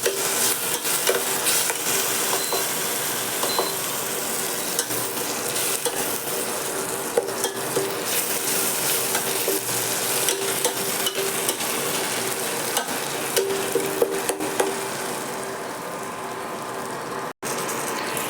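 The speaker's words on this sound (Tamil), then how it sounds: "இப்போ பாருங்கள் வதங்கிறது ஈஸியாக வதங்கும்" Chopped banana flower sautéing and being stirred in a pan for a curry, with steady close sizzling and scraping stirs throughout, occasional clatters, no talking.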